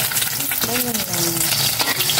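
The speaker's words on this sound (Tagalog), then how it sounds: "Prito na po tayo ng egg." An egg fries in a pan with a steady, close sizzle and crackle, while a brief voice sounds faintly underneath.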